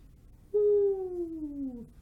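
A human voice imitates an owl hoot with one long, clear falling tone that slides slowly downward, close and alone against faint background noise.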